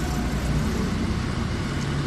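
A car moving on a city street at night during a police operation, a steady broadband roadway rumble and engine noise at close to moderate distance, with no talk.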